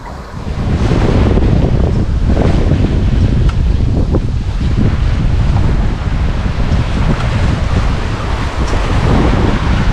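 Strong wind and breaking ocean waves during a squall aboard a solo sailing yacht surfing down swells, a loud, continuous roar and rush of water with heavy wind buffeting on the microphone throughout.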